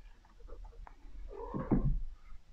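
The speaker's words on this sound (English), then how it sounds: "you probably hear the cat there jumping around." A cat moving about indoors gives one short, quiet meow-like call near the end, with faint thumps of movement before it in a quiet room.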